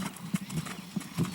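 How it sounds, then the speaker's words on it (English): Hooves of a gaited walking horse clip-clop at a canter, a quick rhythmic set of soft, close thuds in a brief stretch over faint background noise. "I'm going to go ahead and extend the canter."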